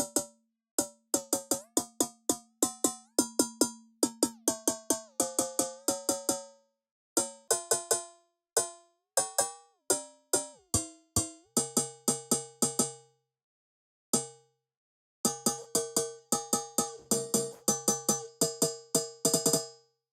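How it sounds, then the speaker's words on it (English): Synthesized anvil-like metallic hits made with parallel comb filters and frequency shifting: a rapid, uneven series of sharp ringing strikes with brief pauses, close and clear, no voices. "Getting some anvil-like sounds too."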